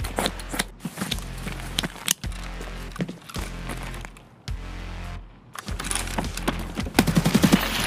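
Automatic rifle fire in the game Escape from Tarkov, heard as several long rapid bursts of loud close gunshots with short gaps between them. A denser, louder volley comes near the end.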